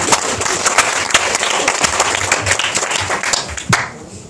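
An audience at a solo poetry evening in an art café claps steadily in a dense, continuous round of applause that fades out near the end.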